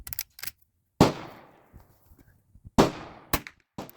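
.22 LR rifle firing Federal Champion 40-grain ammunition, two sharp loud cracks about two seconds apart, each with a short decaying tail, among quieter clicks and handling noises.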